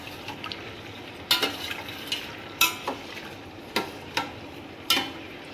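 Rice with lemon juice being stirred in a pot over high gas, a soft simmering background broken by about five sharp scraping strokes of a spoon against the pot, close and fairly quiet.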